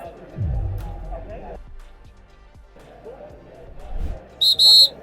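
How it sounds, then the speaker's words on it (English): Two short, shrill whistle blasts ring out near the end, following talking voices and a few dull thuds. "It's the official kill team start of game whistle."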